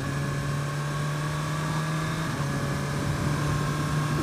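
A Suzuki GSX-R1000R motorcycle engine runs steadily while riding, shifting with its quick shifter. A loud continuous engine drone fills the recording with little change and no voices.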